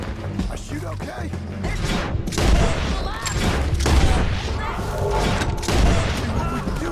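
Heavy gunfire in Red Dead Redemption 2, a loud, continuous fusillade of overlapping shots and booms. Shouting voices cut through the shooting.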